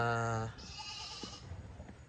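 Farm sheep give a loud, close bleat at the start, followed by quieter bleats and rustling in the background.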